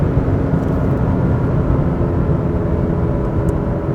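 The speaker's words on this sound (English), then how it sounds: "so that you can listen and share the great V8 sound with you guys" Lexus RC F V8 exhaust, a dense low roar at steady speed, loud and continuous, likely heard from the cabin with no speech.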